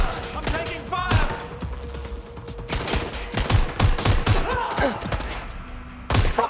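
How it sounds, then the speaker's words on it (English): Heavy gunfire in the video game Watch Dogs Legion rings out in repeated sharp bursts and volleys under a player taking fire, loud and close with thuds and impacts scattered throughout. "I'm taking fire!"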